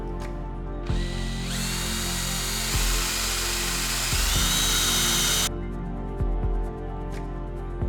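A power drill whines steadily for several seconds, its pitch shifting as it bores 1.5-inch-deep holes into hardwood, then stops, leaving a low background hum.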